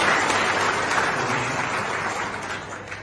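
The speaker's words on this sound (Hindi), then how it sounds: "ताली तो बजे" Sustained audience applause at a Taleemi Bedari education conference in a hall, dense steady clapping from many hands that tapers slightly toward the end.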